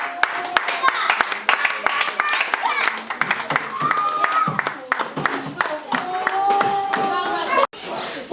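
Applause from a gathering at an orphanage donation event, a dense run of hand clapping lasting several seconds with voices and chatter mixed in throughout.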